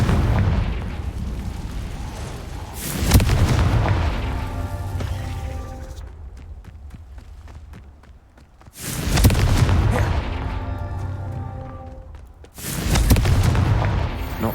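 Repeated spell blasts from the Confringo blasting curse in Hogwarts Legacy, three loud booming bursts spaced a few seconds apart, each followed by a fading rumble and crackle.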